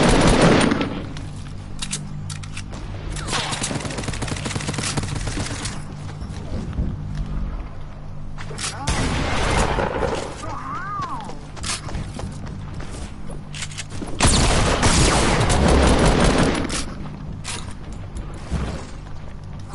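Video game gunfire crackles in several bursts of rapid shots separated by quieter stretches, with mechanical clanks and creaks between volleys and no voices.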